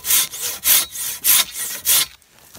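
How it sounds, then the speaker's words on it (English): A Silky Katana Boy 650 pruning saw cuts through wood in four steady, loud back-and-forth strokes, each a rasping burst with short gaps between, ending in near silence. "it cuts so quick and so easy, like it's easy to make that first kerf"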